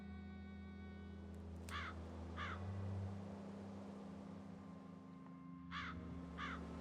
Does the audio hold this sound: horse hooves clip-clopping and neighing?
no